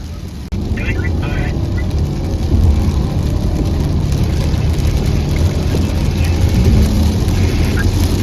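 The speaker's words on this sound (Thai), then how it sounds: "ขับรถไล่ล่าติดตามคาราวานรถกระบะขนแรงงานเถื่อน3คันในพื้นที่อำเภอชนะจังหวัดสงขลา" Police car chasing a convoy of three pickup trucks in Chana, Songkhla, a steady, loud engine roar with road rumble close up, opening with a sharp thump.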